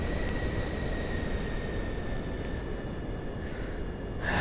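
A Pilatus PC-24 business jet taxis in Microsoft Flight Simulator 2024, its engines giving a steady, loud broadband rumble with a faint high whine, unchanging throughout with no talk.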